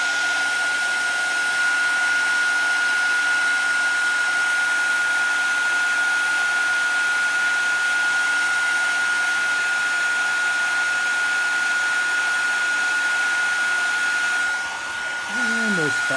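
A heat tool blows steadily over a Halloween paper tag, a constant close whirring hum with a faint high whine that holds for the whole span before briefly dipping near the end.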